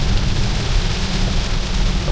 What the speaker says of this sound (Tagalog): So, sobrang lakas ng ulan.